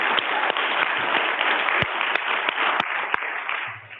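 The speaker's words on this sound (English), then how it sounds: "I want to give you guys an applaud for speaking up and practicing your First Amendment." Steady applause from an audience at a school district board meeting, dense clapping filling the whole stretch with a few sharper individual claps standing out, no talk over it.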